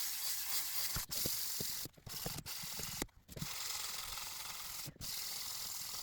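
A stainless steel bracket base plate is hand-sanded with 1000 grit sandpaper, giving a steady, close, hissing rasp of back-and-forth strokes broken by a few short pauses.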